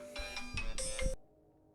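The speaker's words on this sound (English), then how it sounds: "Sorry, I got a phone call." Phone ringtone signalling an incoming call, a bright electronic tone repeating in short bursts for about a second before stopping abruptly, leaving quiet room tone.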